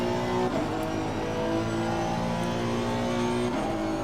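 Race car engine under throttle in Assetto Corsa Competizione at Monza, a loud continuous high-revving drone that rises in pitch, with quick gear-change dips and no talk.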